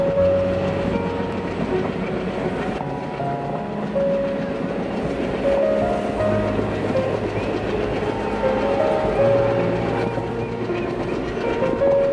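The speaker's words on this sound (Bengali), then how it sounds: "নিউ জলপাইগুড়িতে আমাদের ট্রেন অনেকক্ষণ দাঁড়িয়েছিল, সবে ট্রেন ছেড়েছে" A passenger train pulls out of New Jalpaiguri and runs along the rails, a loud, steady rolling rumble with a sustained mechanical hum, heard from on board.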